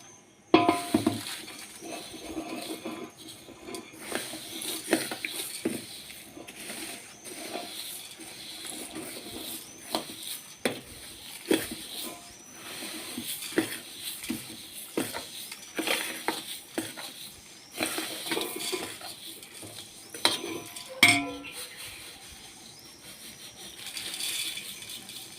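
Roasted whole spices for homemade kala masala are stirred in a vessel, giving scattered dry clinks, rattles and scraping taps close by, uneven and fairly quiet with no talking.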